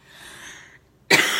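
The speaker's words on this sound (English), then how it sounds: "this is like the first time I'm getting my Lyme disease cough in like a year or so" A single sharp, close cough bursts out after a moment of soft breathing, the lingering dry cough of someone with Lyme disease.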